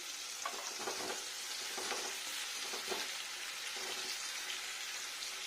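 Fried potatoes, tomato and coconut cooking together in a pan for a vegetarian potato curry, a soft steady sizzle broken by rhythmic stirring scrapes, with no talking.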